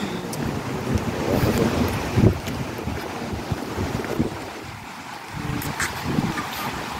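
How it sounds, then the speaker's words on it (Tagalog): Ebor Falls waterfall gives a steady broadband rushing roar heard from nearby, with gusty wind buffeting the microphone and no voices. "So narinig ko na yung tinig ng falls."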